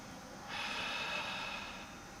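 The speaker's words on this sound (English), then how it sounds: "We're gonna go 5 deep inhales and exhales" A basketball player takes deep breaths during a stretch held in position, one long, airy, close breath that swells and then fades out.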